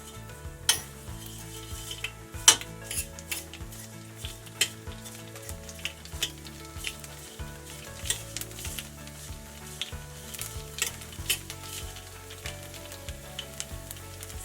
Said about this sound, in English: you can tell the noodles that still have not fried